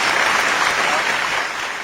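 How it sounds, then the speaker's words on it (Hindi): Enthusiastic audience applause welcoming a poet on stage at a mushaira in Dubai, a thick steady roar of many hands clapping together, loud and sustained without pause. "पपलू लखनवी जी का स्वागत कीजिएगा जरा जोरदार तालियों के साथ।"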